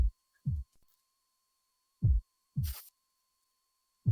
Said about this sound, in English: My heartbeat gets weaker.